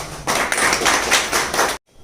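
An audience at a mushaira poetry gathering breaks into loud, dense applause to welcome a poet, the clapping lasting under two seconds before stopping abruptly.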